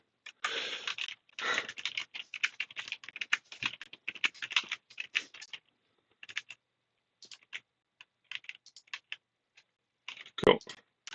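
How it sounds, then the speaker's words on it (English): Fast bursts of typing on a computer keyboard, close and crisp, with irregular runs of key clicks separated by short pauses and one louder thump near the end. "So what I'm gonna do is I'm gonna type here"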